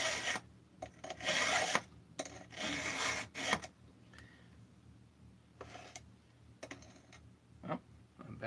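A file rasps across the cutters of a 28-inch full-complement chainsaw chain in short bursts of several strokes each, separated by pauses, close and fairly quiet.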